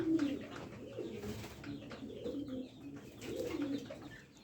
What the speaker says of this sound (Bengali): এই যে এগুলো সব ব্রাহ্মা মুরগির বাচ্চা